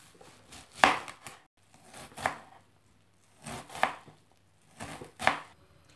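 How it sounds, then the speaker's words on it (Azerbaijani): Four separate knife chops through onion, one or two bulbs being cut in a kitchen while making economical cutlets, each stroke a sharp thud spaced about a second and a half apart, close and fairly loud with no talking. "Bir və yaxud da iki ədəd soğanı doğrayırıq."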